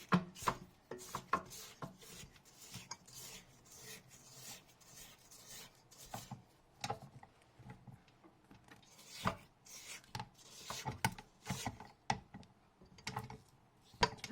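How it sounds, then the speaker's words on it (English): Spatula scraping down the sides of a bowl of creamed butter and sugar for Christmas cookies, a run of soft, uneven rubbing strokes and light taps close by, with no talking. "Before we add the egg and vanilla, we're going to want to scrape down our bowl."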